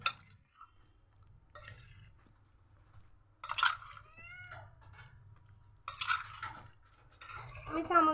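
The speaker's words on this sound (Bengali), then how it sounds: "আমি চামচ দিয়ে মেখে নিচ্ছি" Spoon mixing washed chicken pieces with salt and turmeric in a bowl, giving soft scraping and clinking strokes in bursts between quiet gaps, with a low steady hum beneath.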